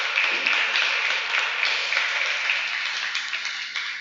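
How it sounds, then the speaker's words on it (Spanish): A church congregation bursts into steady, loud applause that sustains evenly for several seconds without any voice on top. "Aplaudamos al Señor."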